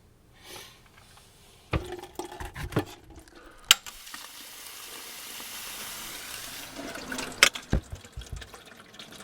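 Water runs from a tap into a clay sink fitted with a bottle trap, a steady soft flow building under scattered clunks and handling knocks, fairly close and moderately quiet.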